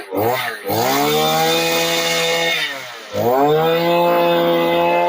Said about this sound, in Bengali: এক্সেলেটর দাবালেই ফালটা কিন্তু ঘুরে যাচ্ছে।